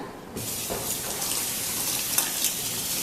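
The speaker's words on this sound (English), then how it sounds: "let me wash these peppers" Tap water runs steadily into a sink while chili peppers are rinsed under it, a continuous close splash that starts after a brief quiet moment and carries on with small shifts in the flow.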